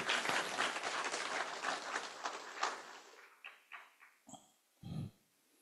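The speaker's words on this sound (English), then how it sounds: "Please give a round of applause for Mr. Xiang Limin, everyone." Audience applause at the APMP-EEFG International Workshop 2025: a dense, loud burst of clapping for about three seconds, then thinning into a few scattered, fading claps.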